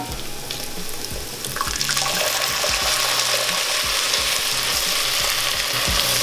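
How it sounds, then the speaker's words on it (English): Strained Italian tomato sauce poured into a hot frying pan for a lamb keema curry, a steady loud sizzle and bubbling hiss that swells as the liquid hits, with a few spoon scrapes, no talking. "I'm going in with my favorite strained Italian tomato sauce"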